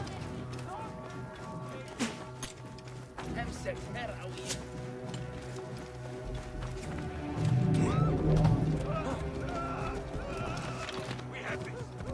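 A horse neighs and hooves clip-clop in the video game Assassin's Creed Origins, mixed with battle ambience and game voices, with the whinny loudest near the middle.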